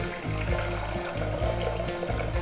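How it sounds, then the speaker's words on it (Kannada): Water poured steadily into a pressure cooker holding washed lentils, a continuous close splashing pour with a rhythmic gurgle, heard alone without talk. "ಬೇಳೆಗೆ ಎಷ್ಟು ಬೇಕೋ ಅಷ್ಟು ನೀರು ಹಾಕ್ಕೊಂಡಿದ್ದೀನಿ."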